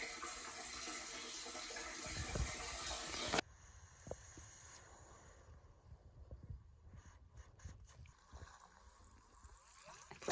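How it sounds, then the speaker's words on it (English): Water gushes loudly from a tap on an off-grid homestead in central Portugal for a few seconds, then cuts off abruptly, leaving quieter drips, clatters and faint background noise. "We have running water!"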